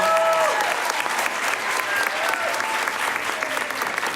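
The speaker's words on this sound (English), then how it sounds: "how about a nice round of applause for Daniel Ayala?" An audience applauds steadily for an award recipient at a school superintendent awards ceremony, a dense, sustained clapping that fills the room for the full stretch without pause.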